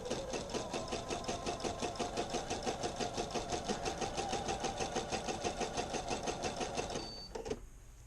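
Domestic sewing machine stitching a seam on a pair of pants, a fast steady rapid-fire rhythmic whir of needle strokes running continuously for about seven seconds, then stopping abruptly with a brief click.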